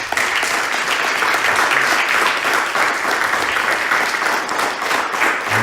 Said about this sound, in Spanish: Gloria a Dios, den un aplauso a Jesús, hermanos.